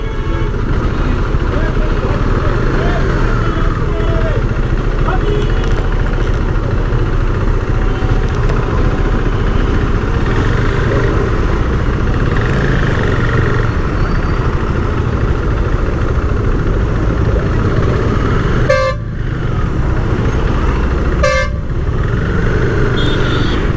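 A traffic jam at Kanta Toli Chowk in Ranchi, caused by road construction, with steady engine rumble from idling vehicles and bikes and occasional horn toots, under someone talking throughout.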